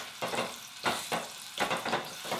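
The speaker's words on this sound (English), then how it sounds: "We're gonna start by sauteing our onions." Onions sauté in hot oil with a loud, close sizzle that surges in repeated bursts as they are tossed and stirred around the pan, about four or five strokes over a couple of seconds.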